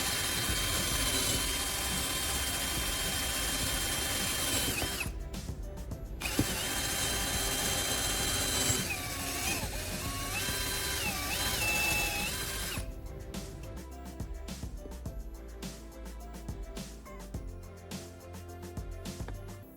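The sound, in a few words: drill boring holes into wooden block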